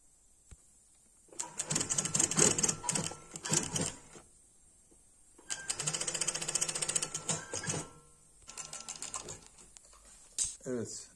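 Sewing machine stitching raw-edged shorts, running in two long bursts of rapid mechanical whirring with a shorter burst near the end, close and fairly loud between pauses.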